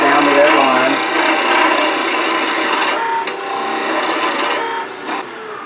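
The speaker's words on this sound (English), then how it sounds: "I'm using a 1/4 inch parting tool." A quarter inch parting tool cutting a wood tenon on a lathe, giving a loud, steady scraping rasp close up that briefly dips and cuts out near the end.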